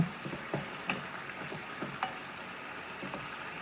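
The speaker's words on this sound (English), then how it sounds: "stir it up" Risotto rice being stirred in a pan over lowered medium heat, a soft continuous sizzle with light scraping strokes and small spoon knocks at an unhurried pace, close and fairly quiet.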